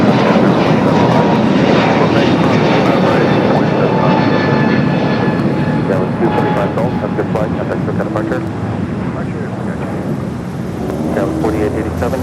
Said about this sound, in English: United A321neo up next.